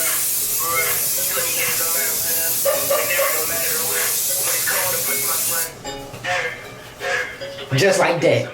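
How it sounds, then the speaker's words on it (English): A can of Cantu hair product hisses as a steady, broadband spray over curly hair for several seconds before cutting off, with someone talking and music playing underneath. "Spray everywhere."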